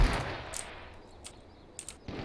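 A few faint, scattered Magnum gunshots ring out at a distance in a video game match, with short sharp bursts separated by quiet stretches.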